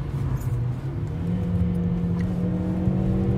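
Steady engine drone from a VW Polo 5 with the 1.4-litre 85 hp petrol engine, held at high revs while driving, a constant harmonic hum with no gaps and no talk.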